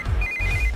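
A phone rings for an incoming call in a South Indian movie scene, a brief electronic ringtone tone heard over a low rumbling background.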